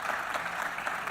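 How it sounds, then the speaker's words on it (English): An audience claps steadily in a dense wash of hands, a sustained burst of applause lasting about a second. "Let's give them a round of applause"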